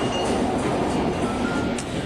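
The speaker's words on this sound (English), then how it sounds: "The clickety-clack of the tracks has certainly lulls you in a state of total relaxation." A steam train on a SteamRail Victoria run gives a steady, dense rumble of wheels on rail, continuous and fairly loud, with faint clinks and no talk.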